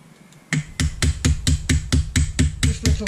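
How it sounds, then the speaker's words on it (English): A ball peen hammer tapping out two holes during engine work on a Toro Wheel Horse with a 2CV engine: about ten sharp metallic taps in a steady, even rhythm, loud and close, beginning after a short quiet lead-in. "Tap out the holes, two holes, with the ball peen."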